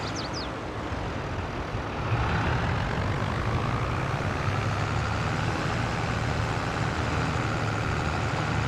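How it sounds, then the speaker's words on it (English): Farming Simulator 22 tractor engine, the highest-horsepower model in the fleet, a steady low droning rumble that stays loud and even throughout, with a brief high chirp near the start and no talking. "And this is our highest horsepower tractor?"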